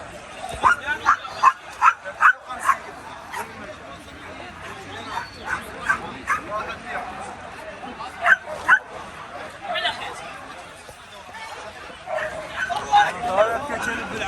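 Dogs at a bustling Baghdad pet market bark, yip and whimper in repeated short bursts, close and fairly loud, over crowd babble and other market noise.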